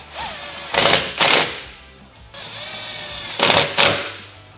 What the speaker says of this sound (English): Now you're just going to fully tighten your hardware.